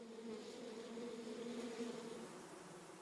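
Honey bees buzzing inside a hive: a steady, dense drone of many wings, continuous and even throughout with no pauses, moderately quiet.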